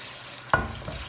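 Ginger garlic paste hitting hot oil in a pan for a spicy chicken matar pulao, a sudden sharp sizzle burst after a quiet hiss, then a softer steady frying crackle nearby.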